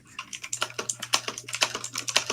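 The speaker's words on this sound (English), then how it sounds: "It sounds like someone's clickety clacking. Sorry, that's my keyboard." A computer keyboard clacks close by in quick, uneven bursts of crisp keystrokes, with a low steady hum beneath the typing.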